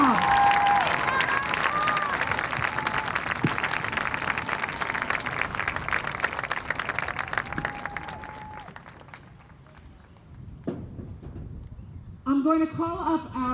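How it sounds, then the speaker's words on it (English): Audience applause for a high school marching band fills most of the stretch as steady, dense clapping with some cheering. It thins out toward the end, where a voice comes in. "How about one more round of applause for these kids?"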